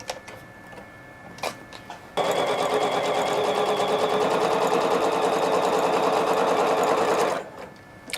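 A sewing machine stitches a seam on a pinwheel sampler quilt, running in a fast, even whir of stitches for about five seconds. A few quiet clicks come before and after the run.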